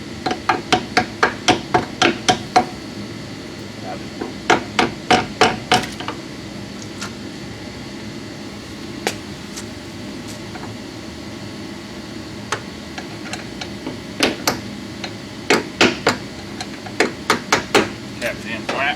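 A hammer taps door hinge pins into a 1999 GMC Sierra in quick bursts of sharp metallic strikes, close and fairly loud, separated by pauses with faint background noise.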